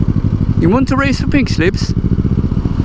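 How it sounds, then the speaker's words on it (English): A Kawasaki Ninja 650 motorcycle idles with a loud, steady, throbbing exhaust rumble close by, while someone speaks over it. "You think that exhaust is loud, my friend? On a Ninja 650?"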